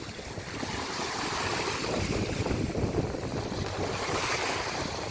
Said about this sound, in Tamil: இந்த இன்ஜின் தான் ஃபுல்லாக ரன் ஆகுது.